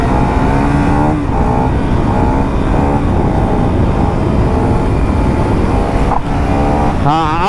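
A 2025 KTM Duke 390 motorcycle roars loudly up through the gears while held in a wheelie, its close engine note rising with each shift, and heavy wind rush runs underneath throughout.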